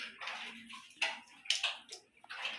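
Water runs from a swivel tap into a kitchen sink, splashing close by but faintly, in uneven bursts and trickles.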